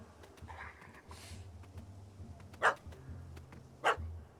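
Dog in The Witcher 3 game gives two sharp, separate barks a little over a second apart, over a low ambient game background with faint scattered clicks.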